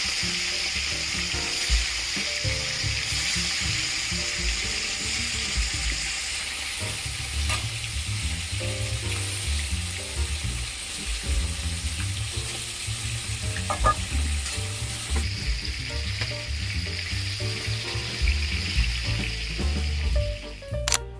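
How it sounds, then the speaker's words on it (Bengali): Pieces of snakehead murrel fish fry in oil with a steady, close sizzle that runs throughout, with occasional light clinks and stirring noises. "বাকিগুলো আমি এইভাবেই ভেজে নিই।"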